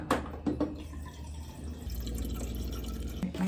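Tap water runs steadily into a water bottle for an electrolyte drink, a continuous low splashing fill with a few faint drips and clinks near the start and end.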